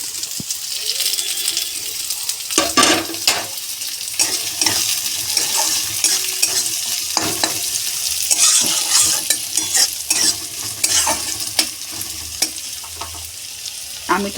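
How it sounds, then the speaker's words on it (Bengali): Chopped onions frying in white cooking oil in a pan, stirred by hand: steady close sizzling with repeated scraping and clinking of a spoon against the pan, no speech. "এবার এটার মধ্যে পেঁয়াজটা দিয়ে দিলাম।"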